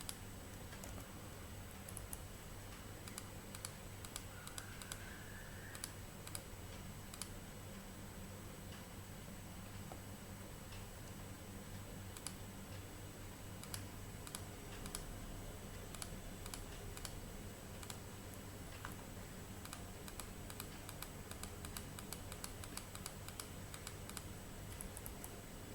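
Keys on a computer keyboard are pressed during GIS digitising work, giving a steady stream of light, quick clicks and taps with a few louder strokes, close and fairly quiet against a faint background hum.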